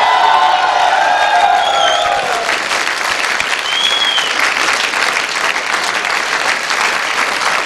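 A big live-event crowd breaks into loud, dense applause with cheers and whoops mixed in, the shouting strongest early on before steady clapping carries through to the end.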